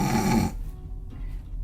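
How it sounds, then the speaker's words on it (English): A single loud, close snore from a dozing animal character in a read-aloud children's story, a rough rumbling breath that fades into quiet. "Dash snores as she dozes."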